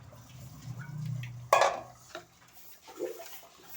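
Rinsed, cleaned fish is dropped into a cooking pot. A low rumble comes first, then a loud metallic clatter as the fish hits the pot, followed by softer knocks and wet splashes.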